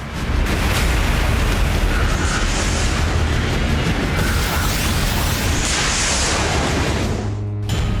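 Continuous heavy explosions and rumbling blasts fill the whole stretch, loud and dense, with no voices, ending abruptly.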